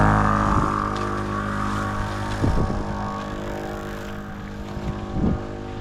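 An old Dodge farm truck, left sitting for over 25 years, drives with a steady, rough low engine drone and harmonic hum, with a few brief thumps and rattles rising above it.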